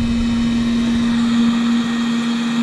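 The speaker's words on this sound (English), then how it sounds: "Just an old toaster oven." An old toaster oven runs with a loud, steady electrical hum, a pure unbroken drone with faint background noise and no voices.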